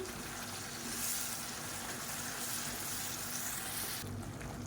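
Blended tomato cooking with onion and garlic in a pan for a kuzhambu: a close, even sizzling hiss with faint bubbling, steady for a few seconds before it briefly thins near the end.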